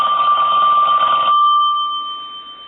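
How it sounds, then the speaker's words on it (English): A Princess telephone's bell rings loudly and close by in one brassy burst, then a sustained tone lingers and slowly fades. "I'll go ahead and ring it."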